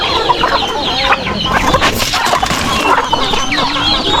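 Farm chickens fed corn mixed with a little feed, clucking busily and overlapping at close range, with scattered pecking and scratching under the steady chatter of the flock.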